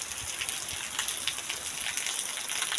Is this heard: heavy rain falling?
yes